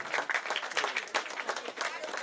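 Group clapping loudly at a Sankranthi festival gathering in Greater Gajulapalle: dense, continuous applause from a crowd, with voices mixed in.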